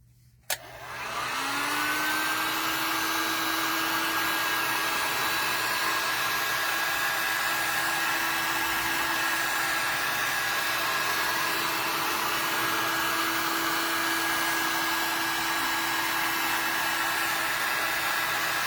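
A hair dryer blows steadily and loud on glue for a craft project, switching on after a brief click and holding a constant whine with no speech over it.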